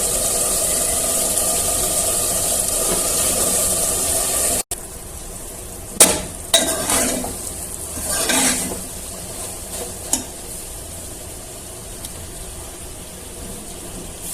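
Soaked soya chunks dropped into a hot pan and stirred, with a brief loud sizzle after a sharp transfer, then scattered spoon clacks and scraping against the pan, close by, no talking.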